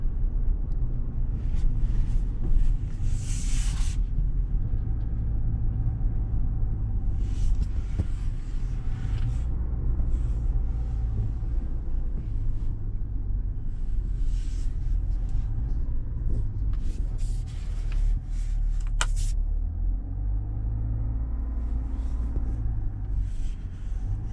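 A 2021 Chevrolet Suburban RST with a Duramax 3.0L turbo diesel heard from inside while driving, a steady low engine and road rumble with occasional louder bursts of wind and tire noise.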